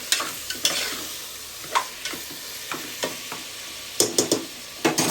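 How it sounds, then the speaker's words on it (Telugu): Mutton frying on a high flame in a pressure cooker, a steady sizzle broken by repeated scraping stirs at an uneven rhythm, close and fairly loud with no talking. "ఇప్పుడు మనం దీన్ని హై ఫ్లేమ్ లేదా ఒక 5 నిమిషాలు మంచిగా ఫ్రై చేసుకుందాం"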